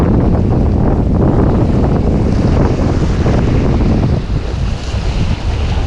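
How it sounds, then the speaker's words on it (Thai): Strong wind and ocean surf pound a coastal breakwater at an old river mouth on Thailand's Chumphor shore, a loud, continuous roar of gusts and crashing waves with microphone wind buffeting throughout and no talk. "ลมแรงนะ ครับวันนี้"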